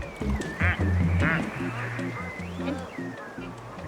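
A squeaky rubber duck pool toy gives two quick squeaks close by, with a voice sounding under and between them.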